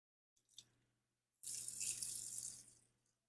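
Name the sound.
washing machine filling with water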